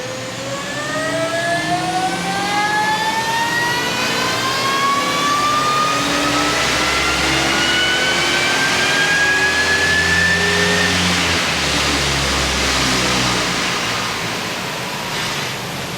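A supercharged factory Ford 5-litre engine revs hard on a rear-wheel chassis dyno at a Ford dyno day, its loud whine rising in pitch for about ten seconds over a constant roar and then dropping away.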